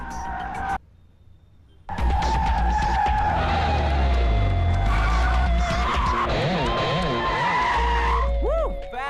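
A car being test driven roars up close with tires skidding and squealing, engine noise swelling after a brief quiet moment, in a Hindi-dubbed film scene with music woven through.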